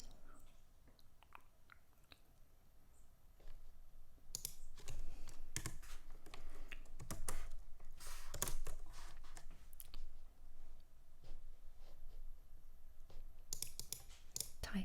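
Soft, close typing on a computer keyboard during coding work, with steady bursts of clicking keys and short pauses in a quiet room, growing busier after the first few seconds, with no voice.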